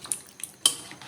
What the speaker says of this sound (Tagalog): At pwede na po tayo maglagay ng papaya.